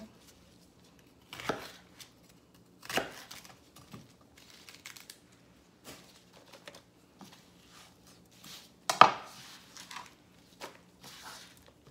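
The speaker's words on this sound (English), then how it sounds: "Then I'm going to cut this one into chunks" A knife cutting vegetables into large chunks for traditional kimchi, sparse crisp chops and taps on a board spaced irregularly, quiet and close, with soft handling noises between strokes.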